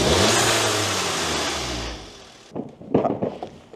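Audi TT engine with its stock intake revving up, a loud rising mechanical roar that holds then fades after about two seconds, followed by a few close clunks and handling noises.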